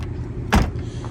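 A Ford Mustang car door shuts once with a single short, solid thunk, fairly close, against a steady low background hum.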